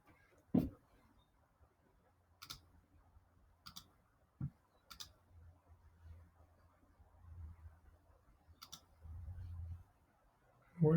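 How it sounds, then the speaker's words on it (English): Sparse computer mouse clicks at a desk, single sharp taps spaced a second or two apart with a low faint hum between them, quiet and close. "Clicking way too fast in here."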